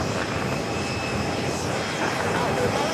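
Neos Boeing 787-9 Dreamliner from Milan arriving on runway 4 left at JFK, a steady broadband jet roar held at one level throughout, with faint talk underneath.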